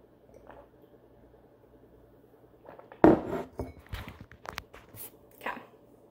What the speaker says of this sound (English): Okay, another water break.